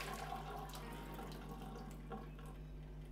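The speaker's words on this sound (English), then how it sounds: "Bring it over to the sink to give it a quick rinse to wash off excess starch." Water from a sink tap runs steadily as cooked tapioca pearls are rinsed and drained, a soft continuous splashing heard at close range.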